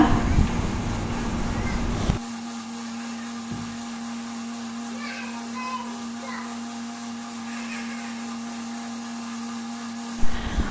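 A mixer grinder blends green grapes in its jar, starting with a loud whirring burst, then a steady motor hum for several seconds before another brief loud spin near the end.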